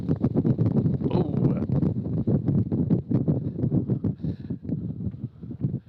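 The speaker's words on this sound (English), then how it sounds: "blew us over on that gust" Strong gusty wind buffets the microphone at an outdoor baseball game at Savanna, a continuous loud roar that swells and dips throughout with muffled crowd or voices underneath.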